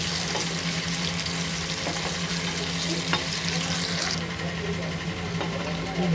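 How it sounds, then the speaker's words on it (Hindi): Onions frying in oil and being stirred for a chicken curry, a dense constant sizzle with scraping stir strokes throughout, close and fairly loud, with no one speaking. "उसी तेल में डाला है हमने। प्याज डालेंगे, इसको अच्छे से मिक्स करेंगे।"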